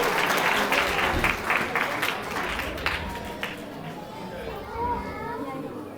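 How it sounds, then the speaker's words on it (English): Audience applause at a school fashion show starts loud and dense, then thins and fades after a few seconds into crowd chatter and murmuring voices. "Please give a big round of applause for her."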